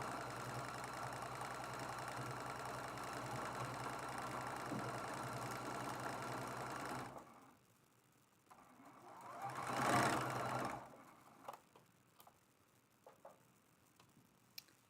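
A sewing machine runs steadily for several seconds sewing a quilt seam on a quilt-as-you-go patriotic mug rug, then stops, followed by a brief rustle and quiet handling noises.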